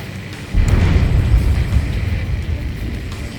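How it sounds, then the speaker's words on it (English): A deep, muffled underwater explosion in Ace Combat 7 erupts suddenly and rolls into a long, low rumble that slowly fades. "A huge explosion just went off underwater."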